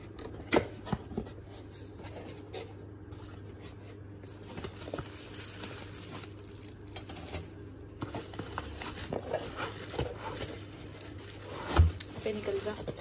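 Rustling and crinkling of a hand mixer box being unpacked up close, with tearing and scraping sounds and a sharper knock near the end.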